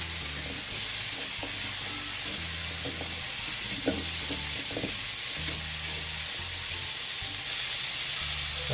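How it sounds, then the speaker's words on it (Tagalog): Onion and garlic sauté in a hot pan for ginataang kalabasa with crab, a steady close sizzle with stirring scrapes and clinks, no voices. "Pag may sibuyas ng bawang, para sa akin kailangan igisa muna."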